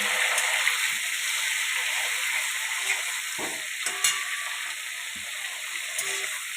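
Chopped vegetables fry in hot oil with nigella seeds in a pan for a fish curry, giving a steady bright sizzle with a few soft knocks and scrapes of stirring.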